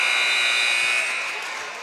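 A basketball end-of-quarter buzzer at a high school game, Mangum versus Apache, sounding as one loud sustained electronic tone that fades slightly toward the end, with faint crowd and commentary underneath.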